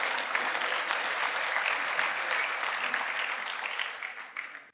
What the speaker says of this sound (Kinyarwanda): Abakomye amashyi buriya barabyumvisha.